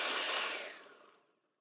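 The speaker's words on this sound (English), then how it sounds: "We're going to mix that all together for our cream cheese icing." Electric hand mixer whipping cream cheese icing for cinnamon rolls, a steady broadband whir that holds briefly and then winds down and fades out over about a second and a half, with no talk.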